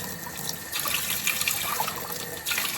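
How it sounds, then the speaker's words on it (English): Water runs steadily from a tap into a sink while clothes are washed by hand at a pilgrims' stop between Ponferrada and Villafranca del Bierzo, a continuous close hiss and splash throughout with no talking. "We wash our clothes."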